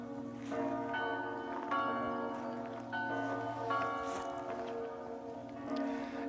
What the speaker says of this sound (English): create these beautiful bells. I hope you can hear them.